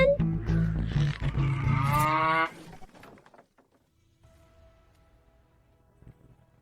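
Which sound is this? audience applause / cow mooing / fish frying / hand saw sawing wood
cow mooing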